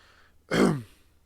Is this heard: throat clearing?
yes